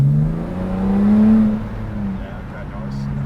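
A tuned BMW 330d with N57 diesel, big turbo, intercooler and downpipe accelerating at part throttle, a rising engine drone with climbing harmonics that swells, eases off and settles, heard from inside the car.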